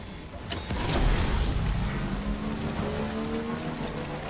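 Steady rain falls in the video game Death Stranding, a dense hiss of drops on surfaces mixed with a low vehicle hum, continuous and fairly loud, with no talking.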